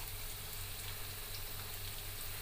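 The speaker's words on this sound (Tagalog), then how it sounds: "Prito muna yung carrots." Faint, steady sizzling crackle of carrots frying in a pan, soft and continuous with no voices.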